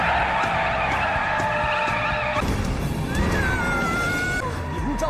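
Cars racing in a film scene, tires skidding and squealing loudly in long sustained screeches that shift pitch midway, with engine roar beneath and no talk.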